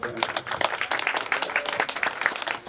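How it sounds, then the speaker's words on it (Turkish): Audience clapping to welcome a veterinarian on stage at a veterinary clinic opening in Kozan, scattered moderate claps with some voices mixed in. "alkışlarınızla veteriner hekim Enes Gök Yıldırım'ı sahneye davet etmek"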